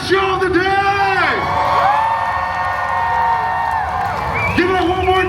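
A crowd whoops, cheers and shouts loudly at Midsummer Scream after a Decay Brigade show, a dense sustained roar with rising and falling whistles and yells throughout.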